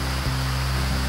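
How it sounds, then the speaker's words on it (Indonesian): Steady broadband rush of the Mbah Bongok waterfall, a continuous dense roar that stays even and close throughout the short stretch. "Makanya disebut air terjun Mbah Bongok"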